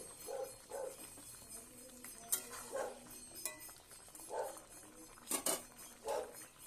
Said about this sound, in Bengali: এবার এটাকে ভালো করে নেড়ে দেব।